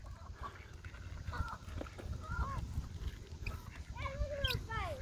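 Geese honking at a park, several short nasal calls scattered over steady outdoor background noise, growing busier toward the end, with faint human voices nearby.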